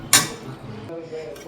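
A metal spoon scrapes and clinks against a pan while ginger garlic paste is stirred into chicken, one sharp clank at the start followed by softer scraping.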